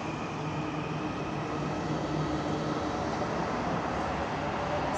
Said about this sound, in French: Les portes sont fermées et hop, le train s'en va.